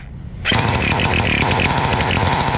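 A 1/5-scale Thunder Tiger nitro RC motorcycle engine with an exhaust leak catches after a hard crank, then settles straight into a loud, close, continuous buzzing idle with no one talking.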